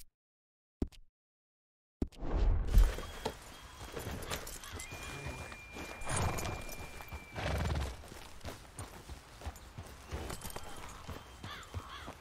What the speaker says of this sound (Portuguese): corre com esse cavalo